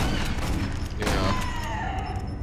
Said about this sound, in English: I suck with the shotgun.